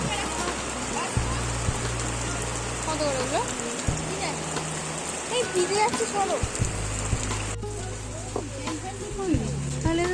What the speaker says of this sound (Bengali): এসে গেছে ঝেপে বৃষ্টি